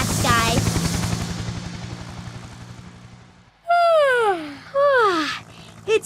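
A cartoon helicopter flies through a children's bedtime story, its engine drone running steadily under a chattering voice at the start and then alone as swooping tones rise and fall above it.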